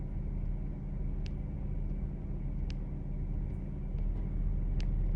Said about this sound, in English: Like that humming from the car